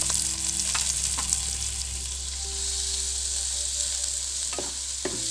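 Two chopped onions fry in hot oil in a pan, giving a steady, close sizzle throughout with occasional soft clinks of stirring.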